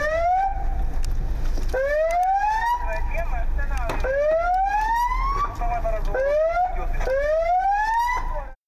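A loud, wailing ambulance siren rising and sweeping in repeated cycles, close by, with traffic rumble underneath.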